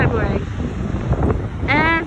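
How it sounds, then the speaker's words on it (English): Ocean wind at Lincoln City buffets the microphone with a loud, gusty roar, while people speak briefly over it. "we're here in Lincoln City at the ocean"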